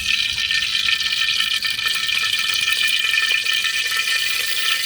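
Oil poured into a cooking pot on the stove for vegetable khichuri, a steady close hiss and trickle of liquid running continuously throughout without pause.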